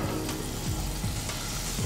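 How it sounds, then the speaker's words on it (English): Butter knobs sizzling in a frying pan with shimmering olive oil, a steady close crackling fry that runs without a break, with a few soft clinks of the pan. "A couple of knobs of butter into the pan."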